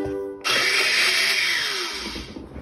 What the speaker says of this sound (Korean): 믹서기 하고 놀아